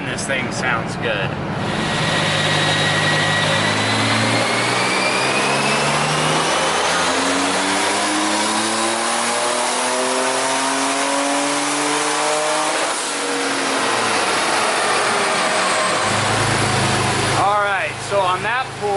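On a dyno, a tuned air-cooled Porsche 930 with a big turbo makes a hard pull: a loud, close engine roar climbs steadily in pitch for about twelve seconds, then drops off and settles back to a rumbling idle.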